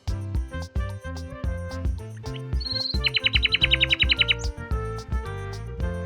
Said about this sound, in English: N is for nightingale.